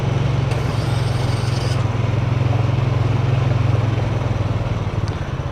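An ATV engine runs steadily close by, a loud, continuous low throbbing idle with a rough mechanical clatter, unbroken from start to finish.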